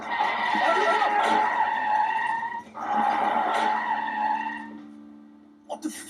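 Car tires skid loudly in a film scene as a person is struck, two long screeching bursts with a lower tonal hum trailing off toward the end.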